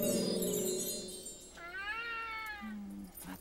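A cat meows once in a long, loud, drawn-out wail, close by, in a witches' school scene with broomsticks, followed by a brief lower voice.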